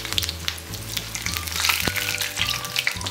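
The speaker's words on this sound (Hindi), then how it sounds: "ऐसे रोल के ऊपर गर्म हॉट ऑयल ऐसे ऐड करते जाने का" A roti roll fries in hot oil with a steady, close sizzle and scattered crackling pops, with no voices.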